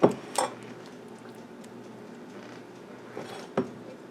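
A utensil scrapes sour cream mixture and cheese out of a baking dish, with a few sharp clinks and scrapes at the start and near the end and quiet pauses between them.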